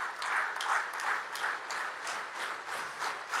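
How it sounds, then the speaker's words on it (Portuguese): Audience clapping hands at a steady, even pulse, a loud continuous patter of many palms that swells and dips roughly every half second with no voices over it. "Comece com as palmas, com as palmas"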